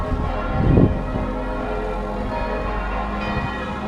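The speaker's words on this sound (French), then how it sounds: "on dirait qu'il y a 15 cloches qui sonnent en même temps" Many church bells ring together in a dense, overlapping wash of tones, loud and steady, with one stronger low clang near the start, in Liechtenstein.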